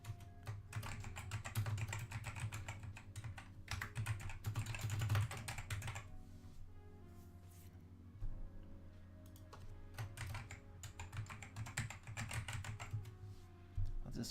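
Rapid typing on a computer keyboard clatters in close, busy bursts with a short pause in the middle, steady and fairly quiet throughout.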